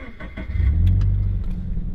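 A manual-transmission car engine cranks with a few quick clicks and turns over, then settles into a steady low idle, loud and close from inside the car.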